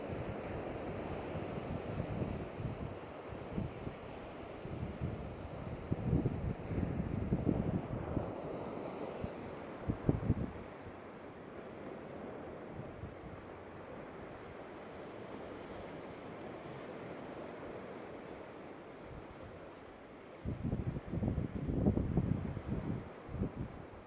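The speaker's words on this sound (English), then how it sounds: "I want to hear the ocean." Ocean waves roll onto a Florida beach, surging and receding in slow swells, with wind buffeting the microphone between the louder breaking washes.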